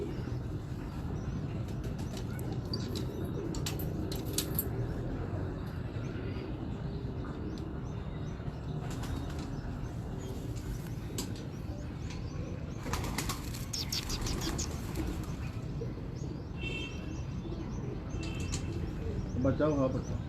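Pigeons cooing and flapping their wings, a few sharp flutters of wings and soft coos over steady background noise, with someone talking at times.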